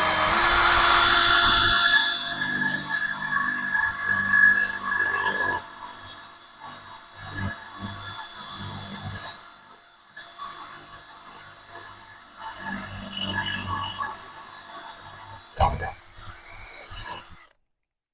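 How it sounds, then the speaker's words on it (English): A drill fitted with a 1/4-inch Bosch masonry bit grinds through a concrete block in a couple of rough bursts, the rasping fairly close and moderate in level with quieter pauses between. "So let's start drilling holes."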